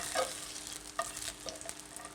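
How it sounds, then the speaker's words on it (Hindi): Tadka tempering sizzling in a frying pan in a kitchen, a soft steady frying hiss broken by a few brief stirring scrapes, close but fairly quiet, with no talk. "तड़का बना लेंगे।"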